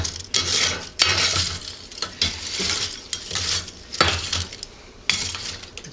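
A metal tool stirs through hot coals and ash inside a wood and coal burning rocket stove, giving a string of close, loud scraping and clinking strokes with short bright clanks at irregular moments.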